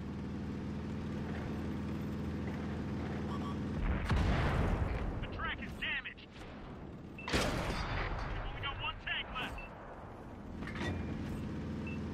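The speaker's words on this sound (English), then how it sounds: "artillery!" Heavy artillery fire in the tank battle game World of Tanks, with two big booming impacts around four and seven seconds, each rolling out into crackling debris over a steady background rumble.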